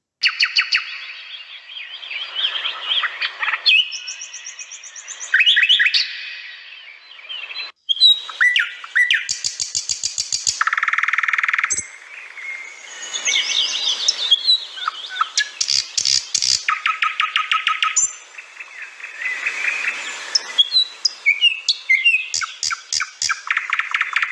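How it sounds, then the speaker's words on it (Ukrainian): A nightingale sings close and loud in varied bursts of whistles, trills and rapid repeated notes, with short pauses between phrases. "Соловейко гніздовий перелітний птах, гніздиться на всій території нашої країни, крім Карпат."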